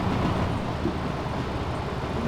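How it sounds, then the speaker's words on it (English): Class 127 diesel railcar train pulling out of a depot in Diesel Railcar Simulator, a steady, loud rumbling drone of engine and rolling wheels with no distinct events; no talk. "there goes a train out of the depot"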